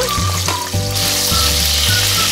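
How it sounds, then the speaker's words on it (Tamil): Onions sizzle and fry steadily in a hot pan while making mutton liver soup, a loud continuous crackle up close, with no voices. "வெங்காயத்தை பச்சை போட்டு வதக்குங்க"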